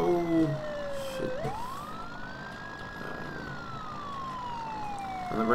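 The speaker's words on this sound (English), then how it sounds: "On the right side, we have the lights and sirens" A police siren from the Farming Simulator game, on a Ford F450 police truck, wails through rising and falling sweeps, steady and prominent over a low engine rumble, with no speech.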